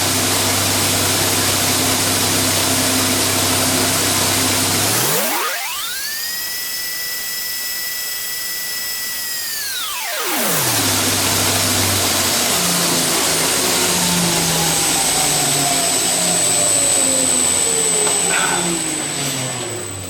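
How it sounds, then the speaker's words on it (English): Powered grinder shaping a bushcraft knife blade, a loud steady high whine that dips as the motor spins down, then rises back up to full speed and runs on continuously, close by. "The grinder."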